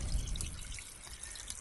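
Storm water pours and trickles out of a footer drain at a garage construction site the morning after a heavy rain, a close, continuous splashing flow with small drips and no voices.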